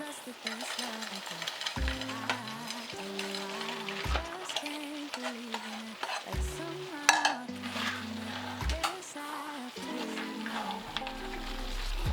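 Vegetables are tipped into a pilau pan, giving a close, bright sizzle with repeated stirring and utensil clatter, while steady musical tones play in the background.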